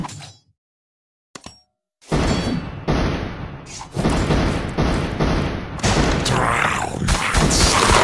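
Explosions in a video game go off in a rapid string of booms and thuds, loud and dense after a brief quiet start, with a few sharp blasts and whooshing debris piling on top of one another.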